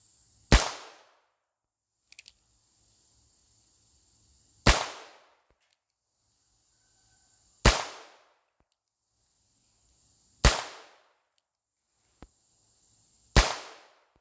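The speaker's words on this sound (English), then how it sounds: "Let's see how this thing goes with regular 22 LR bullets." Regular .22 LR rounds fired outdoors on open land: five sharp, loud, close gunshots spaced roughly three seconds apart, each with a short decaying tail, and faint clicks of handling between them.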